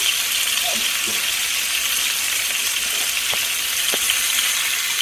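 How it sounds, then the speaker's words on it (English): Butter hitting hot oil in a pot, giving a steady, even sizzle and frying hiss throughout, with a couple of faint clinks near the end. "I'm still going to add the butter directly to the oil that's in there"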